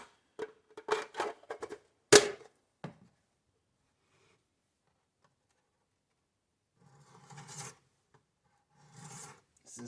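A pocket knife blade is drawn across a 600-grit sharpening stone in quick rasping strokes. A run of close scrapes is followed by a long pause, then several softer, slower passes near the end.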